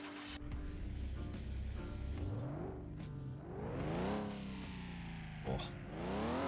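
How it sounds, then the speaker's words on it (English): In the Car Mechanic Simulator game, a car engine turns over and runs, with rising and falling revs and a gritty, distorted rumble that stays faint in level and is heard without talk. "now let's start the car"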